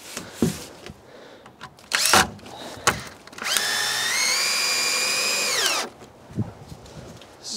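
A power drill drives screws into a wall, with one sustained whine of a couple of seconds that ramps up and winds down, set among scattered knocks and handling clatter of nearby construction work.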